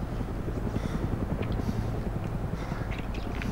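Steady low rotor drone of a helicopter flying in DayZ, continuous and fairly close with a faint beating pulse, heard alone without talk.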